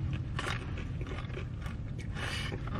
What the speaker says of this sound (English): I like getting chips on top of mine because it's just crunchy